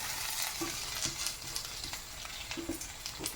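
Dal frying in a pan with coconut added for chutney powder, a faint, steady sizzle with soft scraping stirs at irregular intervals, close and alone without talk.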